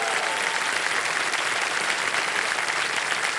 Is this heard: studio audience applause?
yes